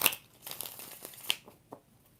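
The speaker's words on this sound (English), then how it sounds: "3 more shuffles." Tarot cards being shuffled by hand, a few quick crisp riffling and sliding bursts close up, with a sharp snap near the middle and softer card rustles trailing off, no talking.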